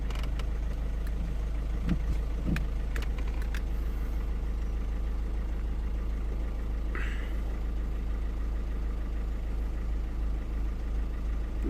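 A Volvo 1.6 diesel car engine idles steadily with a constant low rumble and a few faint clicks, close by and alone.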